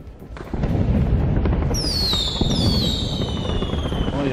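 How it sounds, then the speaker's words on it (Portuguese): Fireworks go off at the close of a Nintendo E3 press conference: loud rumbling bursts and crackle with whistling rockets rising, continuous and dense, with no one talking. "Fogos de artifício."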